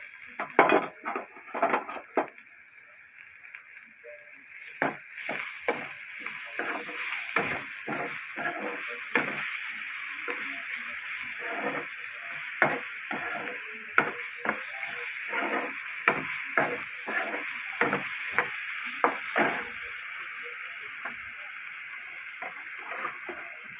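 Prawn heads frying with onions in a pan, a long run of crackling spatters and repeated scraping stirs over a low steady hiss, close but fairly quiet, with no talking.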